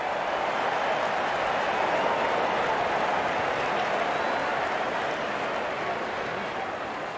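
A cricket crowd applauds a batsman reaching fifty, with steady, dense clapping and cheering from a large stadium audience filling the whole stretch at an even, loud level.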